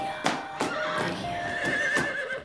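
A horse in an Italian beach-comedy film trailer neighs in several sharp whinnies, with hoof clip-clop and faint background sound between the calls.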